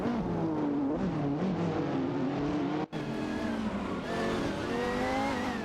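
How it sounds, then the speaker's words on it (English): Race cars in an AI racing video game roar past each other: a continuous loud engine whine with shifting pitch, a brief cut midway, then more engines rising as cars overtake. "Capodelli has advanced to 22p, overtaking Duff Dad."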